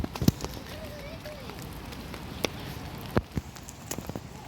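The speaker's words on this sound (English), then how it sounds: "It's rain. It's drizzling a little bit." Light drizzle patters softly outdoors on a rainy day in South Carolina, scattered nearby taps and knocks over a faint steady background hiss.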